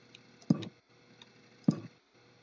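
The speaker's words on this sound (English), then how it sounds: "Sorry if you hear the clicking of my mouse." Two sharp computer mouse clicks about a second apart, near and fairly quiet, with no talking over them.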